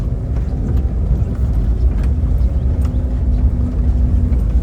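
A 1991 Volkswagen Doka Syncro 4x4 pickup engine runs steadily with a deep, continuous rumble heard from close by, holding a constant drone with no speech over it.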